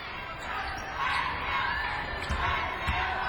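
Crowd noise fills a college basketball arena during a Davidson versus Butler game, a broad, restless roar with faint ball bounces and scattered shouts, swelling slightly midway.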